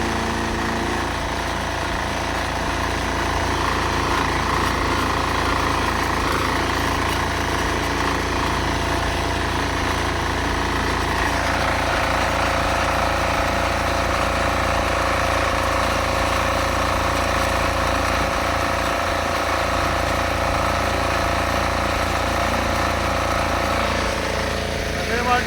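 A diesel power tiller engine runs steadily while hauling a loaded cart, a continuous loud rumbling drone with a slight change in tone midway and no clear break.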